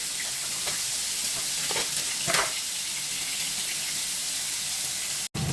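A piece of salmon topped with butter sizzles on a grill, a steady close crackle and hiss that continues without break and has a few brief louder spatters.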